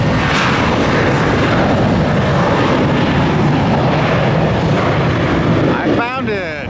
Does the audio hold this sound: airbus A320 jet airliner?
yes